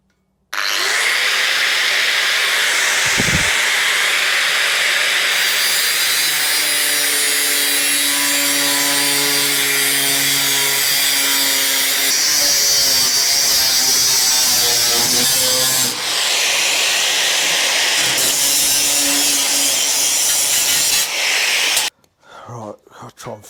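A power tool cuts and trims material for BMW side panels, a loud, continuous whining buzz whose pitch shifts as it works, running nearly without break before stopping abruptly near the end.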